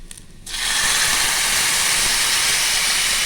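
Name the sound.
cooked chicken added to frying onions in a pan, sizzling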